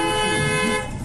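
A car horn blares loud and sustained at a Taiwan intersection as a driver leans on it to warn an electric scooter running a red light, one continuous harmonic toot filling the moment with no talk.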